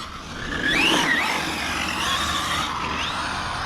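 An FTX Superforza 8S RC car with a 1400kv motor speeds by outdoors, a steady high-pitched electric whine with a brief rising squeal near the start, holding fairly loud throughout with no talking.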